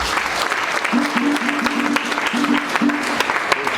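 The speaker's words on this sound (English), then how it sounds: "help me give them a big round of applause" A crowd at a scholars program graduation ceremony gives sustained, dense applause throughout, with a voice briefly audible over the clapping.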